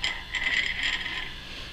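A tungsten welding electrode is ground to a point on a spinning grinding wheel, producing a steady close hiss and scrape that swells for a moment and then eases off, with no voices.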